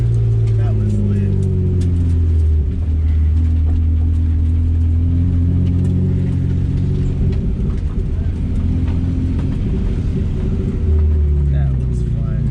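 A car fitted with a CNC71 angle kit is driven while drifting, heard as a loud, continuous engine rumble with low droning tones that rise and fall throughout.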